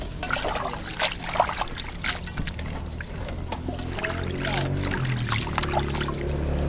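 Bamboo shoots being washed and scrubbed in water, with splashing, trickling and rubbing sounds in irregular bursts close by, and a voice talking partway through.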